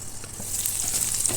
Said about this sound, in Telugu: వంకాయలు ఫ్రై చేసుకున్న ఆయిల్లోనే ఈ ఉల్లిపాయలు కూడా ఫ్రై చేసుకోవాలి